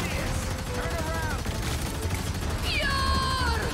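Rapid gunfire from the 6v6 hero shooter Marvel Rivals crackles in a steady stream beneath voices talking and brief tonal game effects.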